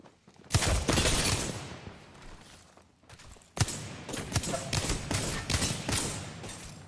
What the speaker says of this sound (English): Gotta shoot the wingman